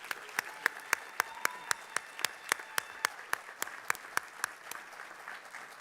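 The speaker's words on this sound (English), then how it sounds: "Let's give our new inductees a round of applause." An audience at a National Honor Society induction ceremony claps for new inductees: a sparse, steady run of individual sharp hand claps, fairly quiet and spread through a hall, with no talk over it.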